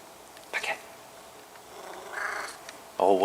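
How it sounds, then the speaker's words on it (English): A black cat gives a short happy meow near the end, after a couple of brief earlier vocal sounds, with a person talking softly to it in between. "That was a happy meow, huh?"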